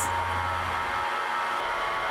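A vacuum table runs under a dome to pull air bubbles from freshly mixed lost-wax casting investment, giving a steady, loud, airy hiss with a low hum that drops away partway through.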